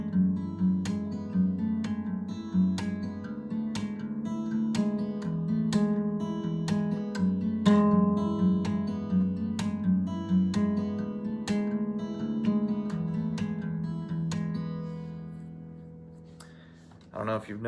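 Acoustic guitar fingerpicking a chord progression from a cover song, steady arpeggiated plucks ringing with bright attacks throughout, close and moderately loud, ending with a brief string noise.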